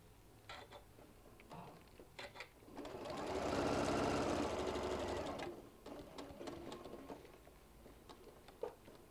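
A sewing machine stitches bean bag fabric in one steady, buzzing run of a couple of seconds, close but quiet, between stretches of soft handling noise and faint clicks.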